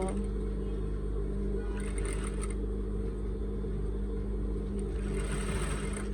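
A sewing machine stitches lace onto a wedding veil, producing a steady close mechanical hum and whir that runs unbroken throughout, with no voices.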